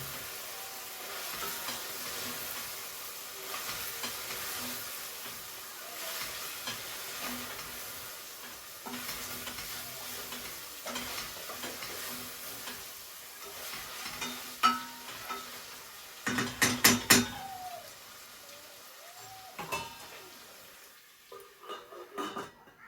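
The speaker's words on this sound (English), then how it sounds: "Give it a stir, then cover again to continue cooking." Pork cooking in a covered pan, with a low steady sizzle and hiss. Later come several sharp clanks of a utensil stirring against the pan and lid.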